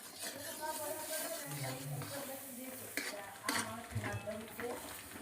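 A spoon scrapes and knocks against a pan as sesame seeds are stirred into hot melted jaggery for til chikki, with a soft sizzle and occasional metallic clinks close by.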